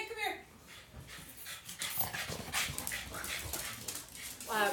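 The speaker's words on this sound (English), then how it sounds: "One of our sitters is here with her dog." A dog visiting a family home pants quickly and whimpers softly nearby, its breathing broken up by people talking over it.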